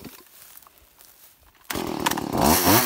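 A chainsaw roars into life partway through and cuts steadily into wood, loud and close, after a few seconds of quieter background.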